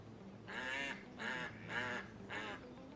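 A teal duck in the hunting game Hunting Simulator 2, set in the Czech Republic, gives four rhythmic nasal quacking calls at moderate distance, evenly spaced, with no talk.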